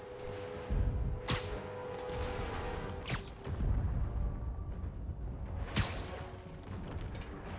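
Bomb explosions in the video game Marvel's Spider-Man Remastered, three sharp booming blasts spaced a few seconds apart over a steady rumbling, mechanical game soundscape.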